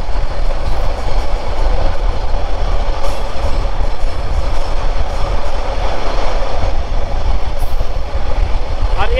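Lalmoni Express train crossing the Jamuna rail bridge, heard as a loud, continuous rumble and rattling clatter of wheels and carriages that holds steady without a break.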